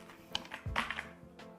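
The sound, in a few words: typing on IQUNIX ZONEX75 custom mechanical keyboard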